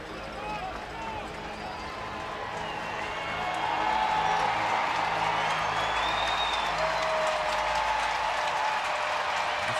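Baseball crowd at a Giants home game against the Diamondbacks, applauding and cheering in a steady roar that swells louder midway through, with a commentator talking over it.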